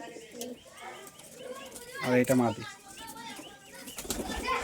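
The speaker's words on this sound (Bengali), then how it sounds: "এই এক জোড়া ম্যাট্রাস পায়রা দেখুন, ফুলসিরা পায়রা" A pair of Fulsira Madras pigeons coo close by, with a short flurry of flapping wings midway, while someone talks throughout.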